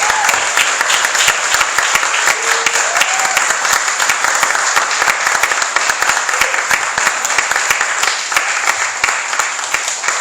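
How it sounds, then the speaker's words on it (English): At a Georgia House District 50 Republican primary candidate forum, the crowd gives loud, dense applause that stays steady for about ten seconds, with no talking over it. "Ladies and gentlemen, would you please give these three candidates an applause?"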